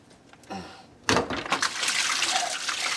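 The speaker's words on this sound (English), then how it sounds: "that's all the water that was stuck up in my sink that is draining out" Water that had backed up in a clogged kitchen sink with a garbage disposal drains out, starting as a sudden loud gushing rush after a brief quieter moment and continuing as a steady, close, churning flow.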